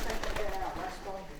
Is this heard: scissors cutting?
no